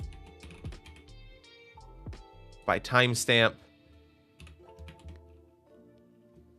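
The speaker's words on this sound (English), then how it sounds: "Fat fingering my keyboard." Computer keyboard keys clatter in quick bursts while someone writes MATLAB code to plot heart rate data, the tapping running alongside a man's speech.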